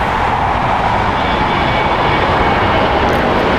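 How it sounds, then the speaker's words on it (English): Close, steady roar of a Boeing 737-900 jet airliner, about 20 years old, at LAX airport on a misty day, loud broadband engine noise holding level throughout with no talk. "It's a Boeing 737-900, 20 years old."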